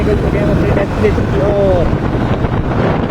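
Wind rushes loudly and steadily over the microphone on a motorcycle riding along near Delhi, a constant roaring buffet under someone talking.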